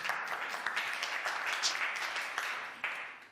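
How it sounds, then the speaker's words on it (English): Faint, steady round of applause from an audience at a panel discussion welcoming a Democratic Alliance representative, soft continuous clapping at some distance throughout. "If we can please give her a round of applause."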